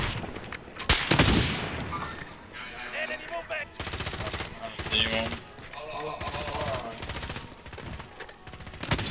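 Rapid gunfire bursts and single shots crack through a shooter video game match, loud and repeated across the clip, with teammates' voices talking over the shooting.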